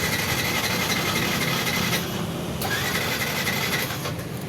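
A motorcycle engine fires up after a wireless kill switch remote is pressed, a close, loud burst of rough noise that settles into a steadier running sound, with no talking.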